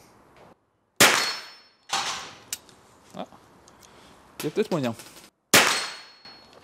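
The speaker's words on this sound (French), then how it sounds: "Peut-être si j'essaie de toucher le haut du gong." Three sharp metallic clangs from .22 rifle shots fired from a Chiappa Little Badger striking a steel gong, each ringing out and decaying, with someone speaking briefly between impacts.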